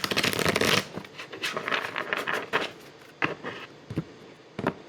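Oracle cards being shuffled by hand, a dense riffling burst followed by irregular soft flicks and taps, close and quiet with no talking.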